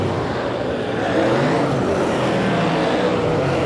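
A super sedan race car at Archerfield Speedway, Lachlan Ollie's, runs high in the rev range, a steady loud engine roar with a slight swell partway through, heard from trackside.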